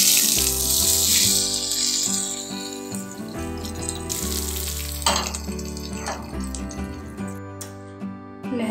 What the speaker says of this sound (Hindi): अब इस तड़के को पालक में डाल दें।